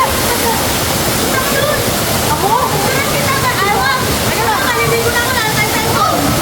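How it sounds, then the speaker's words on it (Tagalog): A waterfall roars in a broad, steady rush close by, with people talking over the constant water noise. "Ayun ang falls."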